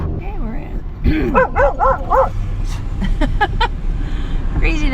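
A dog lets out a run of high yips, short barks and whiny whimpers up close, with engine rumble underneath.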